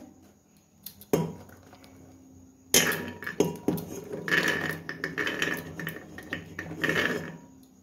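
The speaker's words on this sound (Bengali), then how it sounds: "নিয়ে নিলাম একটা প্রেসার।" A pressure cooker is set down and handled for boiling soaked chickpeas, with a sharp metallic clank near the start, then a busy run of knocks and rattles of metal cookware close by.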